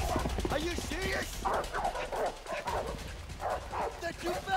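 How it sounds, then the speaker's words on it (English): Doberman dogs bark and yip in the video game A Way Out, in repeated sharp bursts mixed with whimpers, heard under and between excited players talking. "Oh, Dobermans."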